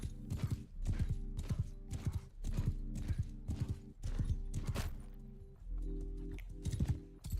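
Horse hooves in the game SnowRunner, a steady rhythmic clip-clop of repeated hoofbeats, close and clear, alone without talk.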